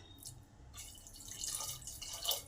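A bowlful of water is poured onto rice in a pressure cooker, splashing and trickling in short close bursts.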